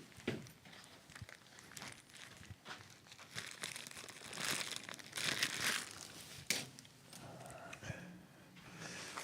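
A plastic bag crinkles and rustles close up while parts for a Prusa i3 MK3S+ 3D printer kit are unpacked, with irregular bursts of crackling handling noise and a few soft knocks.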